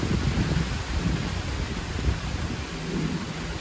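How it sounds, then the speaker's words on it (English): Thunder rumbles low and continuous through a steady rain during a Virginia weekend storm, with no voices present. "Good thunder though."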